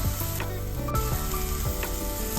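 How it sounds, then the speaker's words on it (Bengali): Small diced potatoes fry in oil in a pan with a loud, close sizzle and a few light scraping clicks from stirring, no voices. "আলুগুলো একটু ফ্রাই হবে"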